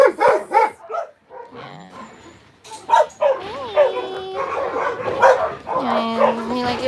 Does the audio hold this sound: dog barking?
yes